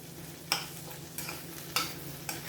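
A few sharp spoon scrapes against a hot pan of chorizo and egg, spaced about a second apart over a low, steady background hum; quiet and close.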